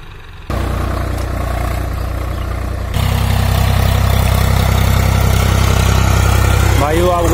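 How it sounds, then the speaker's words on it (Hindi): A Swaraj 744 XT 52 hp tractor engine drones loud and close during groundnut sowing and cultivation, a constant low rumble that steps up in intensity partway through and keeps running steadily. "भाइयों आप साउंड सुनिए आप ट्रैक्टर की"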